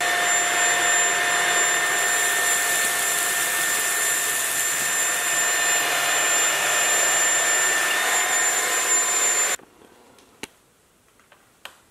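A cordless vacuum cleaner whines loudly and steadily with a high motor tone, then switches off, followed by a few faint clicks and taps.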